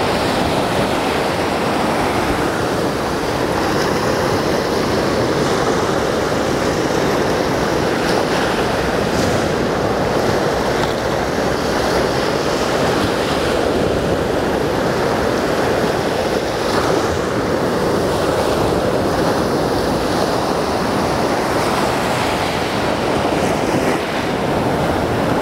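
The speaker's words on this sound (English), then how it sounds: "That raging water." Raging sea waves crash on a shore in a continuous, loud roar that surges and recedes, with gusting wind rumbling against the microphone.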